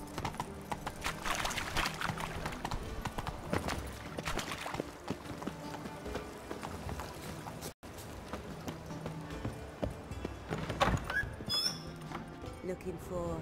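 Hoofbeats of Roach, the horse in The Witcher 3, in a steady trotting clip-clop close by that runs throughout, with a voice speaking over it and a brief break near the middle.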